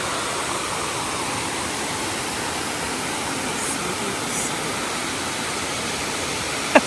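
Steady broadband rush of a river flowing along the Hanakapi'ai Falls hiking trail in Hā‘ena State Park, Hawaii, a constant close wash of water with no voices and one brief knock near the end.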